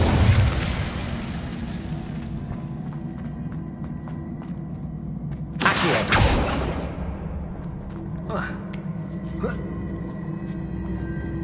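In the video game Hogwarts Legacy, the Incendio fire spell bursts with a loud whooshing blast midway through, surrounded by game ambience, footsteps and smaller bursts.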